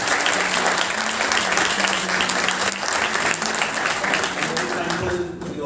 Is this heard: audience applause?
yes